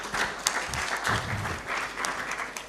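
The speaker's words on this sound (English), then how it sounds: "Clap your hands for her." Workshop audience clapping in a hall, a steady wash of many hands applauding at moderate distance, fairly even throughout with a brief louder peak.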